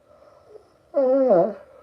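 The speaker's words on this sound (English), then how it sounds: "It's a bit of a yawn." A man yawns aloud during a live machine-shop stream, one drawn-out, moderately loud voiced yawn lasting about half a second after a quiet stretch of faint room noise.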